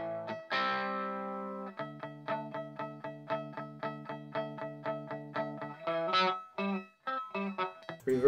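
A distorted electric guitar with reverb turned off plays a steady repeated riff of short chugging chords, dry and upfront, ending with a few looser notes.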